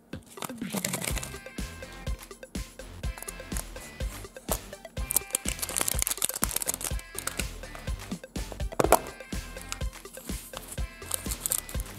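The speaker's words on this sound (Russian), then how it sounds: "Теперь давайте откроем вот такое пластиковое сердечко Hello Kitty." A plastic Hello Kitty surprise heart is opened, with busy crinkling of packaging, sharp plastic clicks and rustling handling close to the mic throughout.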